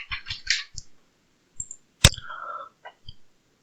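Computer keyboard typing in decimal mode on a calculator, a handful of sparse, crisp clicks and taps spaced irregularly, close and fairly quiet.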